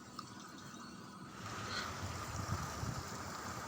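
Water courses through a newly started cooling tower during servicing, a steady hissing wash that grows slightly fuller after the first second and runs on without any voices.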